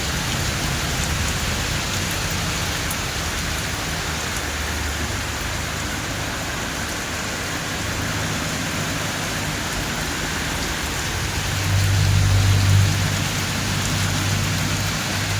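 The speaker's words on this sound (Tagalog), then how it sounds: "Grabe naman yan, ang lakas ng ulan." Heavy rain pours steadily in a constant dense hiss close by, swelling louder for a moment near the end, with no voices.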